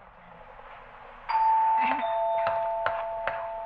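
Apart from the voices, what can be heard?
doorbell ringing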